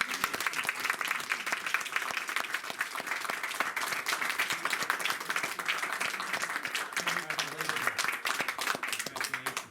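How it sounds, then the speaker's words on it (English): Audience applause at a small-town Board of Selectmen meeting in Dunbarton, steady dense clapping from a modest crowd that holds through to the end at an even level, with a few faint voices mixed in. "Let's give them a final round of applause."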